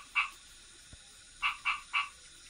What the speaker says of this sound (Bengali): সঙ্গে ব্যাঙেরা ডাকার শব্দ